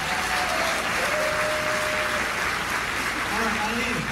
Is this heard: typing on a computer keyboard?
no